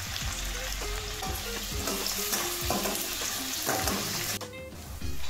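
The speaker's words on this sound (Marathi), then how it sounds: "आपण यामध्ये बारीक चिरलेला कांदा टाकून घ्यायचा आहे। साधारण 2 कांदे आपण तळून घेणार आहोत व्यवस्थित।" Finely chopped onions frying in hot oil for pav bhaji, a steady loud sizzle with repeated scraping stir strokes against the pan throughout, heard alone.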